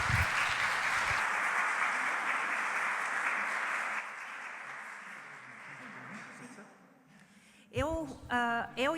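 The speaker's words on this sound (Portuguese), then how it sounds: "Vamos dar uma salva de palmas." Church audience giving a round of applause: loud, dense clapping for about four seconds that fades away, followed by a voice speaking near the end.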